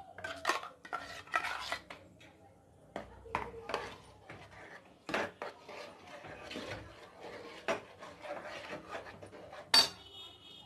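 Irregular metallic scraping and knocking of a utensil against a pot while mashing cooked green gram dal, with scattered clinks and a voice talking now and then.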